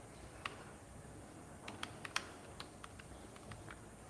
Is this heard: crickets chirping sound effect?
no